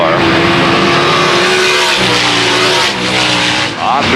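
Race cars roar past at full throttle during a heat race, loud and close, with engine pitch sweeping and tires hissing under a commentator's voice.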